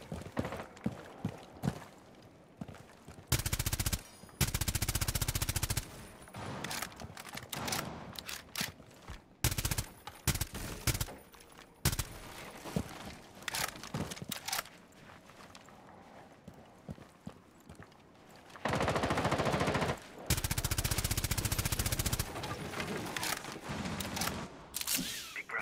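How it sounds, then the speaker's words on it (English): Rainbow Six Siege gunfire, long bursts of rapid automatic shots alternating with shorter volleys and single cracks, loud and dense across the whole stretch with brief gaps between bursts. "Teammate, please stop shooting me."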